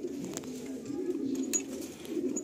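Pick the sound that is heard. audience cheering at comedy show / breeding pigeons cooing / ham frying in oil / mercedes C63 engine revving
breeding pigeons cooing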